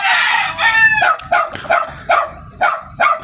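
A gamecock crows loudly and close, one long harmonic crow followed by a run of shorter repeated calls, with other fowl sounding around it at a cockfighting breeder's yard.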